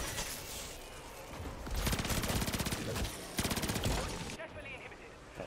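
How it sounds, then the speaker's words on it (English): BP-50 assault rifle fired in MW3 Zombies from a Season 4 blueprint: two long rapid automatic bursts of dense, rattling shots, loud and close, with game ambience between and after. "This is a BP-50 assault rifle blueprint from Season 4."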